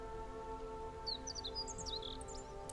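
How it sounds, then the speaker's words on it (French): Distant birdsong in a natural setting, a series of high chirps and short trills scattered over a steady background hum, faint and far off with no voices. "Distinguez le chant lointain des oiseaux, apportant une sensation de paix et d'harmonie."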